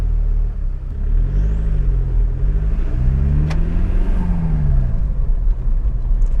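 A diesel Volkswagen Beetle with a boost gauge fitted accelerates on a drive, its engine rumbling loud and close from inside, pitch rising and falling through gear changes with no talk.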